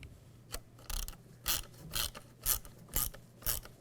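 A ratchet snugs down bolts on a replacement tailgate for a 2007–2013 Chevrolet Silverado 1500, giving about eight crisp, evenly spaced clicking strokes up close, with no talking.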